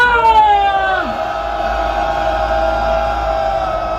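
A rally crowd at a Korean presidential campaign event for workers' rights lets out a loud collective shout, rising voices sliding together in a sustained cheer that holds steady near the microphone.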